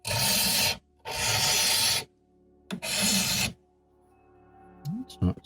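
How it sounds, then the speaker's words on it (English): A hand rasp files the corners off a carved slate pendant handle in three long, loud scraping bursts, followed by quieter small knocks and handling sounds near the end. "I'm going to use this rasp to take the corners off here"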